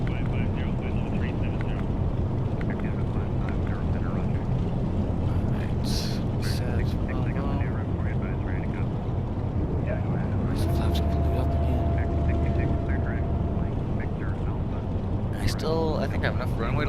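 Steady droning roar of a DC-3's propellers and engines in X-Plane 11, loud and continuous throughout, with occasional clicks and a person speaking over it.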